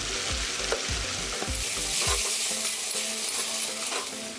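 Ginger and garlic paste sizzles in hot oil for chicken biryani, with a steady loud frying hiss and several quick spoon scrapes and taps against the pan early on.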